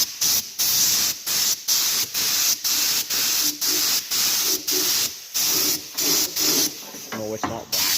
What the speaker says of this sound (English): I will try and spray it now while holding the camera